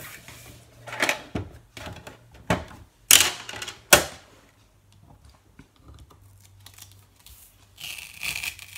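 Brother ScanNCut SDX2200D cutting machine unloading its cutting mat, with sharp mechanical clacks and a brief whirring feed around the middle, then softer shuffling and scraping handling noises afterward.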